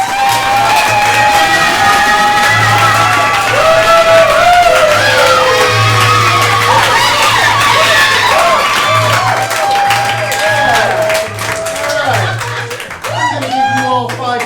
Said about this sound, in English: That was a great applause.